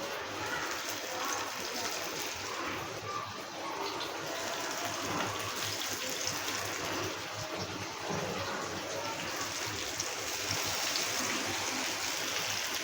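Fish fries in oil on a flat tawa, a steady dense sizzle and hiss that stays even and moderately faint throughout.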